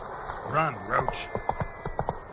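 Roach, a horse in The Witcher 3, gallops with a run of clip-clop hoofbeats under a voice speaking over the start, the steps growing sharper and more evenly spaced toward the end.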